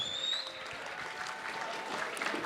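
Steady, moderately distant applause from the audience at a graduation ceremony, a continuous wash of many hands clapping with no talk over it.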